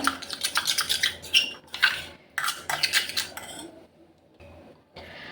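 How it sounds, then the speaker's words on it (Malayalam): A spoon scrapes and clinks against a bowl while curd is stirred in for a homemade skin remedy, in quick bursts of metallic clatter with brief pauses between strokes. "തൈരും കൂടി ചേർത്ത് നമുക്ക് നന്നായിട്ടൊന്ന് മിക്സാക്കി എടുക്കാം"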